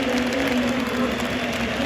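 Stadium crowd at Fenerbahçe versus AEK Larnaca applauds as Batshuayi comes off as a substitute: a dense, steady wash of clapping and crowd roar with a low hum beneath, distant and unbroken.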